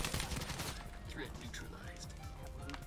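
Gunfire in Black Ops 3 multiplayer: a dense, loud burst of rapid shots at first, then continued sharp shots and in-game effects under a player's talking.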